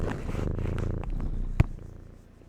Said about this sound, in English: You're giving them nice big purrs today